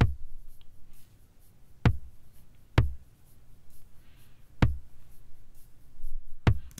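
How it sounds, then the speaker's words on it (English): A simple programmed drum beat made in Reason Studios plays on its own, with sparse, spaced kick-and-snare hits landing about once a second over a faint low hum. "So real quick, I just made a super simple drum beat just to track stuff too."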